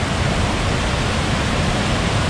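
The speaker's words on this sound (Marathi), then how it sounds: "पाहू शकता तुम्ही धबधब्यावरचं पाणी." Heavy rushing water pours over a village waterfall swollen with high flow, a steady, dense roar that stays loud and unbroken throughout.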